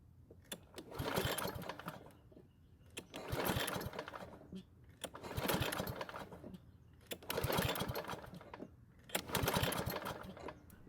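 A Lawn Boy mower that won't start, with a spark tester installed in line with the plug, is cranked by its pull rope in five evenly spaced whirring bursts, close up, and never catches.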